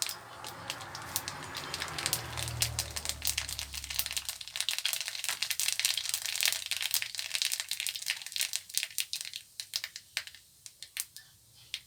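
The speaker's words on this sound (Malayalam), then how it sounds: "കടുകൊന്ന് പൊട്ടട്ടെ." Mustard seeds crackle and pop in hot oil in a home kitchen, a dense burst of sharp snapping that thins into scattered, irregular pops, heard close up with no talking.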